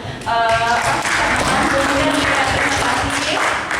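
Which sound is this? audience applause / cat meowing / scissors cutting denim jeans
audience applause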